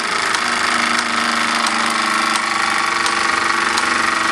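A Falk 1442 toy steam engine running on live steam drives a miniature four-tool workshop, producing a loud, continuous mechanical whirring and chugging with regular light clicks and rattles.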